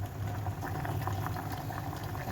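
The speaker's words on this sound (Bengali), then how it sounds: "এখন নেড়ে চেড়ে দিব।" A pot of Pakistani red chicken curry with black cardamom and cinnamon bubbles and simmers steadily, a dense wet sizzle and gurgle close by as it is stirred, with no talk.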